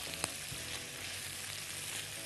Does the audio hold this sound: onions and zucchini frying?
yes